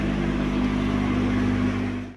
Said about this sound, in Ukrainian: Там ззаді Юрка газує.